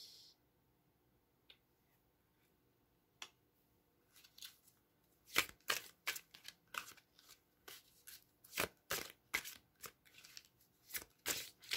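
Tarot cards being shuffled for a general reading, quiet sparse taps at first, then a run of crisp close riffling bursts in an uneven rhythm, heard alone without talk.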